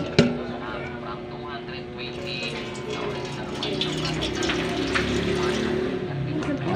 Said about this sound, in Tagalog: Ayan, lagyan natin ng kaunting tubig.